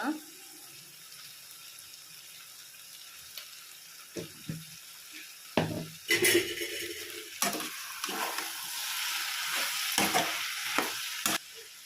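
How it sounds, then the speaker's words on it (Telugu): A spoon stirs a brinjal and drumstick curry in a pan, quiet at first, then a run of irregular scraping and clattering strokes building through the second half, close and moderately loud. "బాగా కలుపుకోవాలండి ఉప్పు తగినంత"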